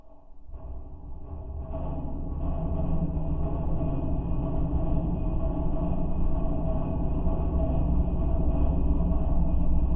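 A train passes outside, a heavy continuous low rumble with steady rolling noise that swells and holds loud and close for the whole stretch, no voices.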